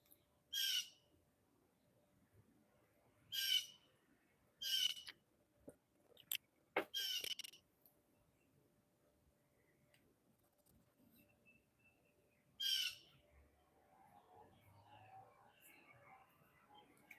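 A hawk calls from the trees outdoors, giving five or six sharp, short cries spaced several seconds apart, moderately distant and faint against quiet background rustle.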